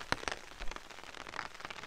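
Rain patters on a tarp at a forest bivouac in the Thuringian Forest in autumn, irregular close taps and soft splats over a quiet background hiss, with no one speaking.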